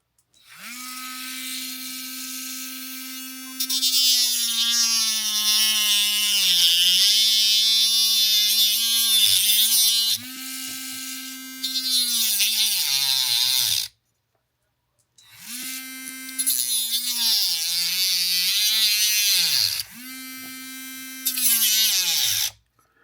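Small Dremel rotary tool fitted with a little cutter wheel cutting into a Revell 1971 Hemi Cuda scale model, whining at high pitch in bursts that dip and bog under load, with two clear stops and restarts.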